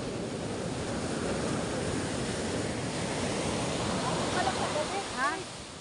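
Outdoor rain grows heavier into a full, constant roar, with a person speaking faintly near the end.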